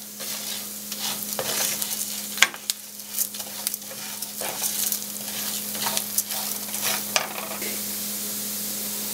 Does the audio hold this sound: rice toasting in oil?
yes